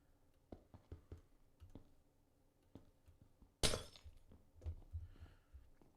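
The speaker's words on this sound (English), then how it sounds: "it still makes a glass noise when you break it" A glass block in Minecraft breaks with one sharp, bright shattering crash partway through. Soft clicks and dull thunks from other building actions are scattered before and after it, and no one speaks.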